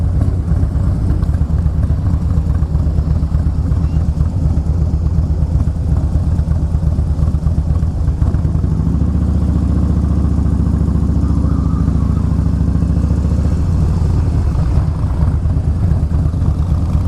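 A Harley-Davidson Fat Boy S engine rumbles steadily while being ridden, a deep continuous throb that swells louder and lower partway through as the throttle opens, with no voices.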